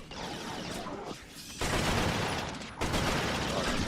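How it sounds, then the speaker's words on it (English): Dense gunfire rattles through a Resistance: Fall of Man match, sustained bursts broken by a short lull before heavy firing resumes, loud and close with no talking. "This guy over here shooting me in the corner."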